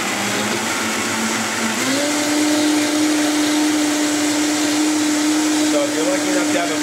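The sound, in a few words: Vitamix blender mixing crepe batter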